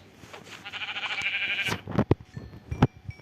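Minecraft sheep bleats, two or three short calls close by, following a steady rising tone and some clicks.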